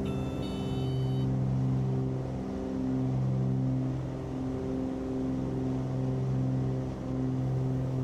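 Twin piston engines of a Cessna 414AW Chancellor in a flight simulator, running steadily at full power with a loud, sustained harmonic drone and a slight dip in level partway through, no talking.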